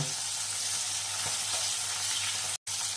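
Tangra fish frying lightly in hot oil, a dense continuous sizzle that stays even and close throughout, with one abrupt brief dropout near the end.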